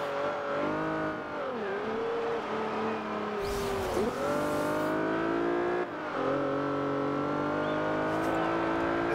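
A car in the racing game Forza Horizon 2 accelerates hard with a loud, steady engine roar. The pitch climbs, dips at each gear shift and climbs again, and tyre noise runs underneath.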